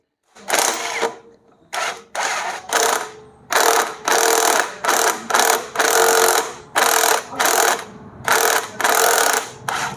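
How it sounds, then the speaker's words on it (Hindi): A 14 mm socket on a ratchet loosens a nut on a scooter's brake assembly, sharp clicking bursts repeating in about a dozen quick strokes separated by brief pauses, close and clear with no voices. "आप यहाँ पर 14 मिलीमीटर का सॉकेट लगा के इसको एंटी क्लॉकवाइज डायरेक्शन में रोटेट करा के लूज कर सकते हैं।"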